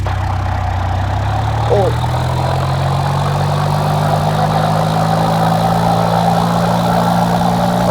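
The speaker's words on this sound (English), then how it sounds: "I'll throttle up a little." An aircraft engine in a flight simulator game drones steadily and loudly, its low tone climbing slightly as the throttle is eased up, with a brief spoken exclamation over it.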